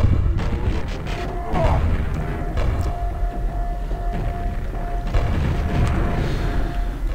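Explosion blowing up a zombie in Quake, heavy booming blasts and crashing thuds over a rumbling low drone of game noise, with a couple of stronger bursts and mechanical clanks.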